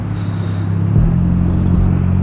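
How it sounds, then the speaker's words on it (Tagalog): A car passes on the road, a low, steady engine rumble that swells slightly midway as it goes by, fairly close and loud, with no talk over it. "ano ba tong kotse na to?"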